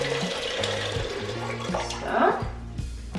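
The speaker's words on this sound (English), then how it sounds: "So you're gonna put some hot water in the big pan." Hot water from a kettle is poured into a big cooking pan in a kitchen, a short splashing, gurgling pour heard close up.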